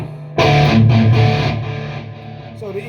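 Heavy metal electric guitar lead played through a Randall amp with delay and reverb, a loud distorted sustained line that rings out and decays over a few seconds, heard alone.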